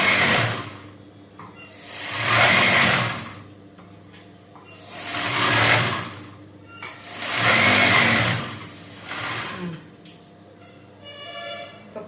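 Electric sewing machine stitching a maxi-style nighty, running in several surging bursts of a few seconds each with quieter pauses between, fairly close and moderate in level.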